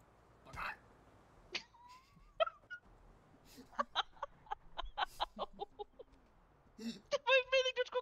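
A man imitates a clucking hen with a string of short, sharp vocal clucks and squawks that speed up into a rapid burst at the end, close and loud over a quiet room.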